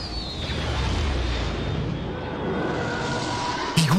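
Continuous rumbling explosions and blaster fire from the Death Star destruction battle in the video game Lego Star Wars: The Skywalker Saga, loud and dense throughout with a sharp burst near the end and no talking.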